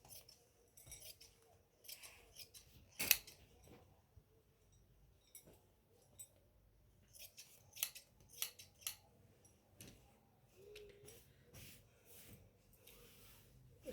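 Scissors snipping through cloth lining for a gown, a scattered series of crisp cuts and small rustles at close range, quiet overall, with no talk.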